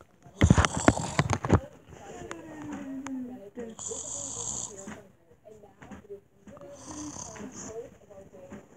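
A person snores in slow, drawn-out breaths, with about two or three rasping snores spread across the stretch. Sharp, loud knocking noises come first.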